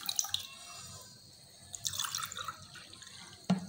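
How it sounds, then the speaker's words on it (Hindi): Two cups of water poured into a cooking pot for a winter cough and cold tea: a soft splashing pour, fairly quiet and close, trailing into faint trickles and a final clink. "ये 2 कप पानी मैं"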